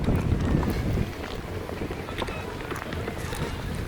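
Wind buffets a microphone outdoors on a country walk near a park and water, with gusty rumbling strongest at the start, then settling into a steady rush.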